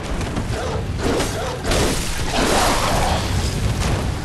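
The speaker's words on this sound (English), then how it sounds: "Are those explosive rounds?" Explosive rounds fire in Bloodborne: The Old Hunters, a few loud booming blasts and thuds rising over a dense, rumbling game backdrop.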